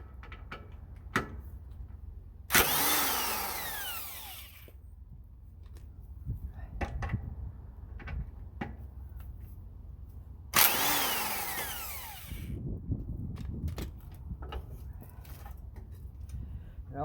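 A cordless impact driver undoes bolts on a John Deere 110 garden tractor coil in two loud whirring bursts of about two seconds each, separated by quiet clicks, rattles and handling noises.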